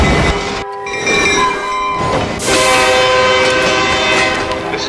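A train pulls into a station platform, loud and close, with sustained horn-like tones and rumbling wheels that swell after a brief gap.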